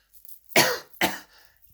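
A person coughs twice in quick succession, close and fairly loud, with a faint throat sound just before and quiet afterward.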